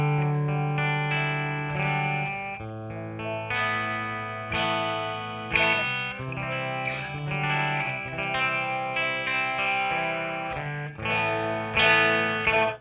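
Clean electric guitar tone played through a pedalboard with a Velton GP50 noise gate, a melodic run of picked notes and chords with steady sustain, close and alone with no talking.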